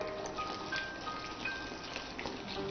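Soda poured into a sherbet of soaked black poppy seeds, a close, continuous fizzing hiss with fine crackling bubbles and light splashing, steady throughout.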